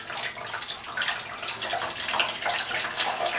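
Water runs steadily from a tap into a container while soy milk is being made, a close, continuous splashing rush that stays at an even level throughout.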